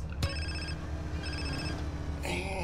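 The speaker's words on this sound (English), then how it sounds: "And answer the phone." Electronic phone ringtone in GTA San Andreas, two bursts of a bright repeating tone over low game background rumble, with a sharp click between and another sound at the end.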